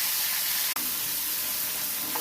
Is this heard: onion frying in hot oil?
yes